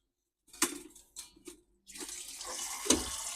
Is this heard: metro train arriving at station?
no